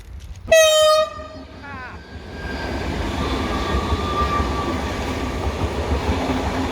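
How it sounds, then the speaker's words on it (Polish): A slow train passing close by on a Warsaw line, opening with a loud horn blast, then a steady low rumble and rolling rail noise that builds and continues. "No a ten pociąg to jedzie wolniej od mojego roweru"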